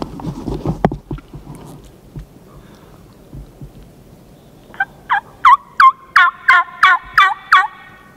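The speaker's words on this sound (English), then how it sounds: "I'm amazed at how many birds are yakking today" Several wild birds call outdoors: after a stretch of muffled rustling noise, about eight loud, ringing, harmonic calls follow in a quick, steady rhythm, close by.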